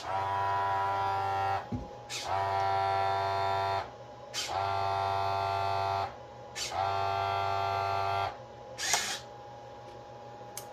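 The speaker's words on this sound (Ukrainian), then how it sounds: "Виставляємо стаканчики, накручуємо потрібну кількість рідини і натискаємо на кнопку." Liquid dispensing machine filling cups after a button press, a close electric pump buzz running in repeated bursts of about two seconds, separated by short pauses and clicks.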